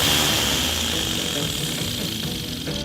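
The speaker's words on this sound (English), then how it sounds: "I 3D printed a red propeller and glued it to the engine" A small 3D-printed Wankel rotary engine spins a glued-on red propeller, giving a steady, loud, airy drone that holds at an even pitch with no talking.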